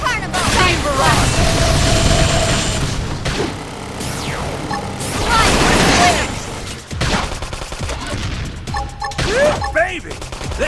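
Beam barrage attack in Xenoblade Chronicles X, a dense rapid volley of booming energy blasts and crashing impacts that rolls on loud and continuous, with battle voices calling out over the din.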